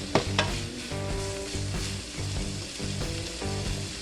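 About three tablespoons of butter sizzling in a hot pan for Chinese fried rice, a loud, dense crackle with a couple of sharp utensil knocks near the start.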